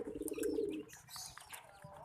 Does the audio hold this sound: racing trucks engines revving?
no